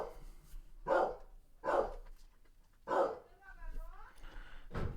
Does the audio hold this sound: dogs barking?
yes